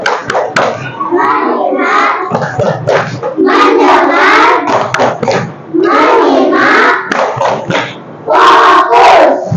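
An Indonesian class performs the 'tepuk fokus' rhythmic clapping chant: loud, close group voices chanting in bursts, punctuated by sharp patterned claps, filling the whole stretch.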